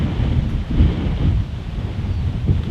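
Wind buffeting the microphone on an outdoor disc golf course during a championship round, a loud, continuous low rumble with gusty fluctuations and no talking.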